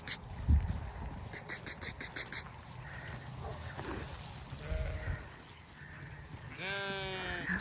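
Pregnant ewes bleat on a farm at chores time, a few short calls at moderate distance amid a quiet barnyard, with a rapid series of faint chirps, soft rustling and a brief higher cry near the end.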